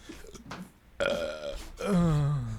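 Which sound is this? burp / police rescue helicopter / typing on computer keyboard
burp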